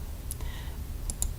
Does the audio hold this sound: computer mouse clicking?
yes